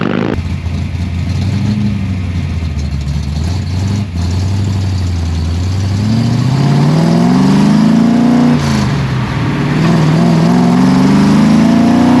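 A 1973 Ford XA GT's 351 Cleveland V8 rumbles steadily, then revs up with rising pitch, dips, and revs again, loud and close with no talking.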